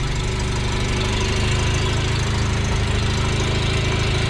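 A Mazda RX-7 engine with a vacuum leak idles steadily at a raised, fast pace with a faint squeal, loud and close, with no talk over it.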